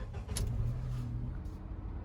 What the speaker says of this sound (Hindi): कार हमारी इस समय भाई स्टार्ट है